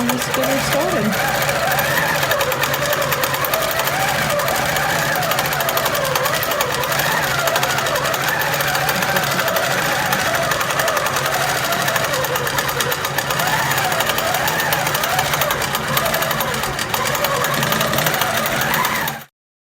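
A longarm quilting machine stitches a meandering border on a quilt, its motor humming loud and continuous with a rhythmic needle chatter for nearly twenty seconds before stopping abruptly.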